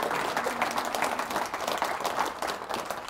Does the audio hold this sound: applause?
yes